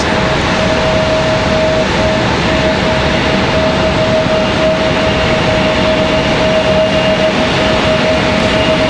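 A Southwest airliner departing RDU Raleigh-Durham International Airport on a stormy evening, a loud continuous jet engine roar holding steady throughout with a faint high whine running under it.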